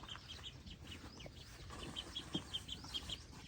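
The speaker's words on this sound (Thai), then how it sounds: "เอาเป็ดออกมาปล่อยพี่น้อง" Soft, repeated chirping calls from ducks nearby, short notes in a loose rhythm over a faint outdoor background.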